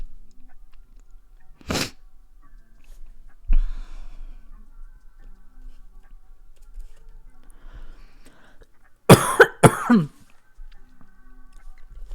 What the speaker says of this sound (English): I love when I just start coughing.